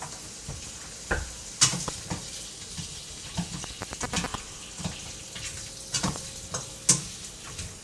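Cut-up linguica sausage fries in hot oil in a pan, giving a steady close sizzle broken by sharp scraping and clacking hits as the pieces are stirred.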